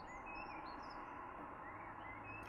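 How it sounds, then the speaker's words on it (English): Birds other than seagulls sing outdoors in clear, sunny weather, thin high chirps and whistles drifting over a constant steady background hiss and low rumble. "listening to the birds that are not seagulls"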